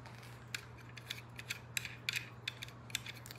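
A ratchet wrench clicks in quick irregular strokes while tightening a nut on a battery switch inside a RAM Promaster 2500 van conversion, faint and close over a steady low hum.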